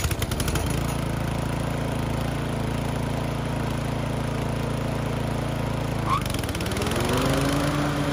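A Toro TimeMaster lawn mower engine starts and settles into a loud, steady running drone close by, with a brief shift in pitch near the end, no talk.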